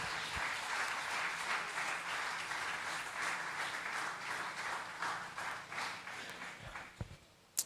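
A church congregation applauds steadily during a service, the clapping dense and even before thinning into a few scattered claps near the end.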